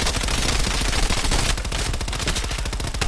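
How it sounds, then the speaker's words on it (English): Rapid automatic gunfire from Call of Duty Prop Hunt, a dense continuous burst that grows sharper and more distinctly pulsed partway through, loud and close with no talking. "I'm shooting you!"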